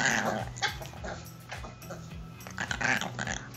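A chihuahua growls and whimpers in close, rough bursts, with short yips between them, making a gravelly, uneven run of small-dog sounds.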